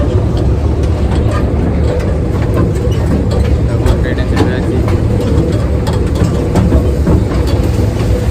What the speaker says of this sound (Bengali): চেপে আছি ট্রেনে